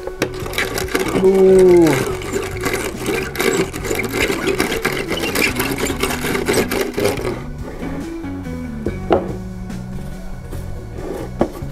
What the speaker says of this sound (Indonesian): Mimin langsung baretin ya pakai sikat kawat ini ya.